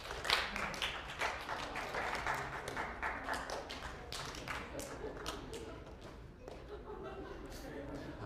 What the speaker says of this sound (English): Could you clap when you see what's different between the two pictures?